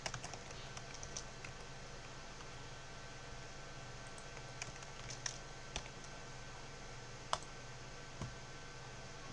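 Fingers type on a computer keyboard while writing C# code, light irregular key clicks scattered across a quiet room with a few sharper taps standing out, soft and close with no speech.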